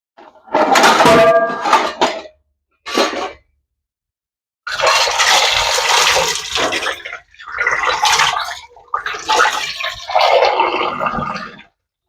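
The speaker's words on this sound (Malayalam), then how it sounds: "വെള്ളം ഒഴിക്കട്ടെ." Water poured from a vessel into a pot of cooked rice in a home kitchen, splashing in several separate bursts with short silent gaps between them, close and fairly loud.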